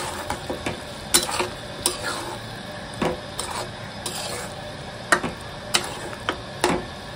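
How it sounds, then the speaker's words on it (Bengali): Baim eel fish being sautéed with onions in a pan, a spatula scraping and knocking close up in irregular strokes over a faint background sizzle, with no talking. "শুধু পেঁয়াজ দিয়ে ভুনা করে নেব।"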